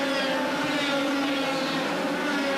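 Formula A racing karts scream around a drying track at a 1992 European karting event, a dense high-pitched engine wail that stays continuous and loud throughout the short burst.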